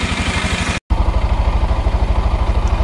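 A Kazuma Jaguar 500 4x4 ATV engine runs close by with a steady, loud pulsing idle, broken by a brief dropout of under a second before the same rhythmic chug resumes.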